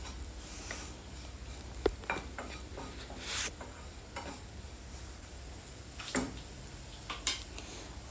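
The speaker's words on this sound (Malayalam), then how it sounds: "എന്നിട്ട് നന്നായിട്ട് മിക്സ് ചെയ്യുക." Potatoes with turmeric and Kashmiri chili powder being stirred in a pan, with soft scraping and faint sizzle, a few sharper clinks of the spoon against the pan, fairly quiet and steady throughout.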